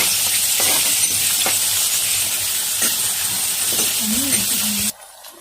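Chopped onions fry in hot oil together with whole spices, a loud steady hiss and sizzle with occasional stirring scrapes, then the sound suddenly cuts away near the end.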